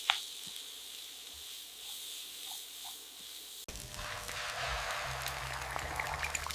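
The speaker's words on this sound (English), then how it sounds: "Toss in the cauliflower and mixed veggies. Stir fry on high heat." Garlic, onion, cauliflower and mixed vegetables stir-fry in sesame oil over high heat, first a soft, quiet sizzle with faint ticks, then a sudden louder, broader crackling hiss as more food hits the pan.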